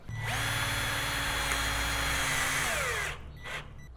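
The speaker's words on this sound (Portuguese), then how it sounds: "Agora é só parafusar." Power drill driving screws into a metalon and MDF cart, a long continuous whine that winds down after about three seconds, followed by brief clatter, with no talk.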